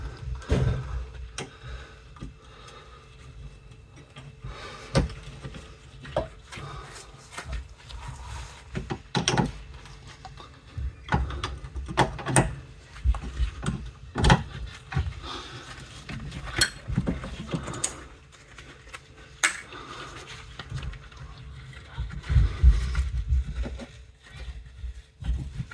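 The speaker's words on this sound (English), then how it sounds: "you want to start off by removing this upper 13mm bolt and this lower 13mm bolt" Socket wrench clicks and metallic ticks from loosening the upper and lower 13mm rear brake caliper bolts on an Opel, scattered irregular clanks at close range, with no talk.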